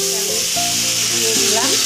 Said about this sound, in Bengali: বড়িটা ভালো করে ভেজে নিয়ে এর মধ্যে আমি তরকারিটা ঢেলে দেবো